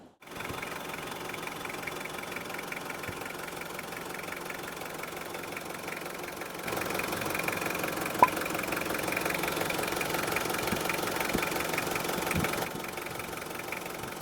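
A Mitsubishi Strada 2.5 diesel pickup truck engine idles steadily with a low, rattling knock, close and constant throughout, getting slightly louder partway through.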